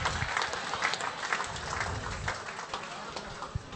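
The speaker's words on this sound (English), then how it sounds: "Give him one more round of applause, ladies and gentlemen." Guests at a 2019 football medal night awards dinner clap in a moderate round of applause, somewhat distant and even, with faint crowd murmur underneath.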